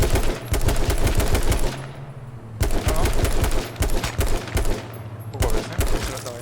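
Loud bursts of rapid automatic gunfire crackle from a moving vehicle in the video game H1Z1, rattling in several sustained volleys split by short pauses.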